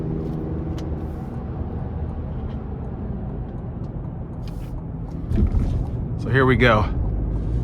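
A 2023 Chevrolet Colorado ZR2 Desert Boss with a 2.7-liter high-output turbo four-cylinder hums steadily from inside the cabin, then swells louder as it accelerates onto an interstate, someone speaking briefly over it.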